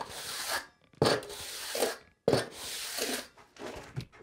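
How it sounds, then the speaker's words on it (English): A steel trowel scrapes and rubs across sand-and-cement mortar while smoothing a shower mud pan, in several separate gritty strokes with short pauses between them, close and fairly quiet. "I'm just gonna take my trowel and smooth everything out"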